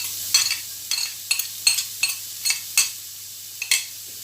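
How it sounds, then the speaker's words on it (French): Garlic and onion sauté in oil while a utensil stirs, making about ten rhythmic scraping strokes over a soft, close sizzle. "Donc on va faire revenir de l'ail avec une oignon."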